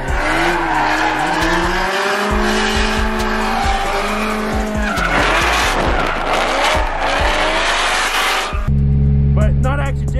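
Drift cars roaring at a drift event, door-to-door tandem runs nearby with sustained tire squeal and engine revving, loud and continuous, ending in a burst of high-pitched screeching.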